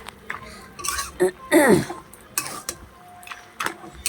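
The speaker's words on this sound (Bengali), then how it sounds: "এবার এইভাবে একটু নাড়াচাড়া দিতে হবে" A spoon stirs a mixed vegetable curry with lentil dumplings in a pot. The scrapes and clinks come in short, irregular bursts at moderate loudness, close by, with some faint voice sounds mixed in.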